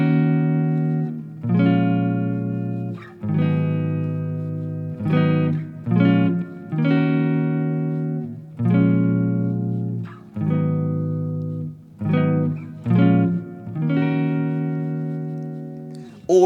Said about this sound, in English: So this is what it sounds like when we make those minor chords minor seven chords.